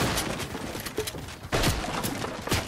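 Desert Eagle pistol shots from a player on a hilltop in Fortnite, loud sharp cracks arriving in a quick cluster, with one heavy shot near the start, another strong blast midway and a final one at the end, amid ongoing game noise.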